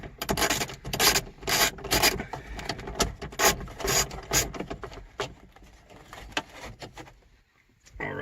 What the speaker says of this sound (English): there's the 4th screw coming out